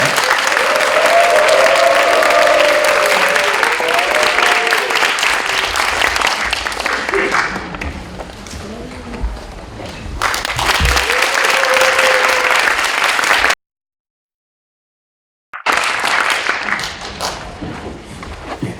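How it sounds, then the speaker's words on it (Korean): Sustained applause from a large audience at an academic conference fills the room, fading gradually to scattered claps, then a short silence before another brief round of clapping. "큰 박수로 환영해 주시기 바랍니다"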